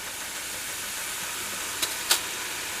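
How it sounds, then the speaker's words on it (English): Ribbon pakoda (pokkodam) dough frying in hot oil gives a steady, faint hiss of sizzling that runs throughout, with a couple of brief sharper pops near the end. "When the oil is still sizzling, it means that the Pokkodam is still cooking."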